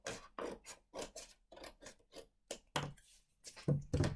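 Paper being trimmed for a scrapbook sketch, a run of short, close rasping cuts and rubs in irregular bursts, fairly quiet with brief pauses between strokes.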